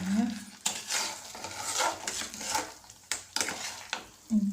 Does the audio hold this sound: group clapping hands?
no